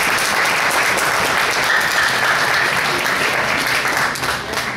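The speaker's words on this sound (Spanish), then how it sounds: "Fuerte el aplauso" At an award ceremony where a restaurant and pastry shop honours outstanding children and young people, the audience claps loudly and steadily for the manager being called up to speak. The applause thins slightly at the end.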